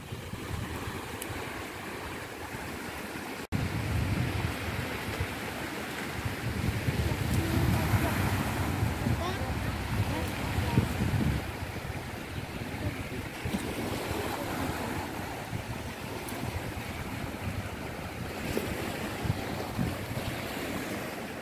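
Sea waves wash onto the beach at Soli, Mersin, a continuous surf rush with wind buffeting the microphone, fairly quiet and steady with surges of water throughout.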